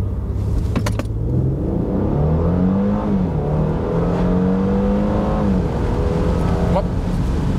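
A Mercedes C400 Cabriolet accelerates hard from a standstill, its engine note climbing steadily through the gears with a deep, rising drone. Road rumble runs underneath, and a voice speaks briefly over the engine.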